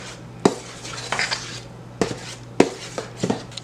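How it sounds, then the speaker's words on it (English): A spoon mixes sifted flour in a bowl for a Barbados Christmas fruit cake, giving sharp clinks and knocks against the bowl at irregular intervals with soft scraping between them, close and alone. "I'm going to just mix this up."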